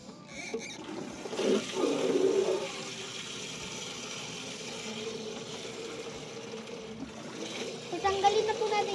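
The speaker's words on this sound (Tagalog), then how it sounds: "dito tayo maglalagay ng tubig na malinis" Clean water is poured and splashes into a basin for rinsing soap off a Labubu plush toy. There are two louder bursts of pouring and light background noise, but no clear voice.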